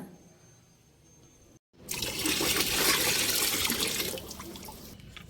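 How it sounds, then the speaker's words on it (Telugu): Water pours and splashes steadily as jaggery fertilizer is diluted for watering plants, a soft trickle rising into a fuller, louder rush of liquid after a brief gap, then easing slightly. "ఇలా వాటర్లో డైల్యూట్ చేసుకొని వాటర్లో డైల్యూట్ చేసుకొని ఇంకా మొక్కలకి ఇవ్వాలి"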